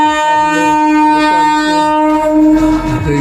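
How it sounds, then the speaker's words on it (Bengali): A train pulls into Durgachak Town station on the line toward Panskura and Howrah, its loud sustained horn tones sounding over rumbling wheels and rail clatter, close by and alone. "ট্রেনটি পাঁশকুড়া হয়ে হাওড়া যাবে।"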